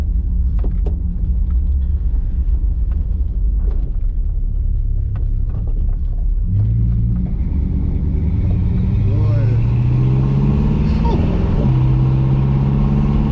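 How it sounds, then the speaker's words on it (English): A 1968 Dodge Coronet with a 440 engine and automatic transmission rumbles while driving, the V8 rising into strong acceleration with smooth gear changes, heard from inside the car with people talking over it. "we're out in the spin in this big 440"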